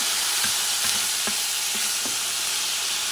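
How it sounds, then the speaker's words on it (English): Salted cod stew with grated tomato sauce and olives being stirred in a pan over medium heat, a steady sizzling fry broken by several soft scraping strokes of the spoon, close and clear with no talking. "Mix this stuff, make sure it's cooking."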